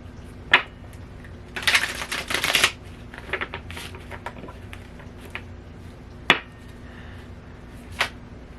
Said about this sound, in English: I just want to get a really good shuffle here